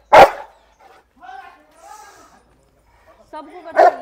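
A dog barks sharply twice, once at the start and once near the end, close and loud, with a person talking in between.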